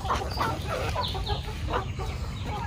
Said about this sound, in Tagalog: Dito na yung ating mga malulusog lahat ng mga manok po sa labas